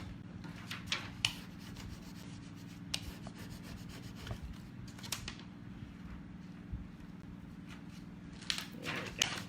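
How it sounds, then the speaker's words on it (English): A hand tool rubs a transfer onto a DIY wooden flag in quiet, repeated scraping strokes with small louder bursts, close by and soft, with no voices. "so just push it back down and just rub it again."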